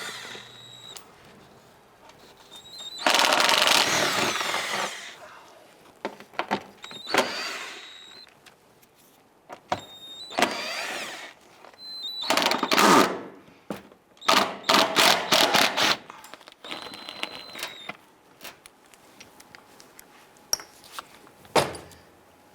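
A power tool whirs in repeated bursts, short and long, while 8mm screws come out of a Ram 1500 wheel well liner, with quiet gaps and faint knocks between.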